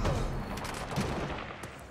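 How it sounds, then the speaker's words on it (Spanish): Gunfire in the video game Marvel's Spider-Man, a dense burst of rapid shots blending into a continuous loud crackle for two seconds, no speech. "¡Uy! ¡Balazos!"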